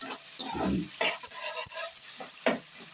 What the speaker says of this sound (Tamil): 2 தக்காளி பழத்தை பொடியாக நறுக்கி அதையும் இதோட போட்டு நல்லா வதக்கணும்